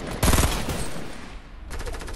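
Close, loud automatic gunfire from Fortnite: a fast burst at the start, a sustained rattle, and another burst near the end.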